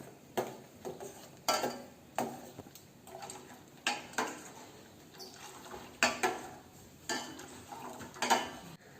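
A spoon scrapes and knocks against a pan while a milk barfi mixture with Boost is stirred, a steady series of close clinks and scrapes repeating roughly every second, no talk.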